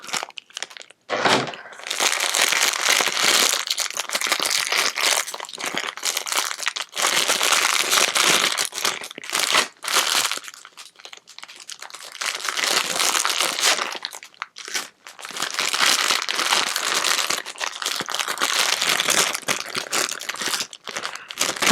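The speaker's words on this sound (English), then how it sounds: "we got a baggie of goodies. I'm trying to figure out how to open it." Close, loud crinkling of a plastic bag being handled and pulled at, in repeated bursts with short pauses between.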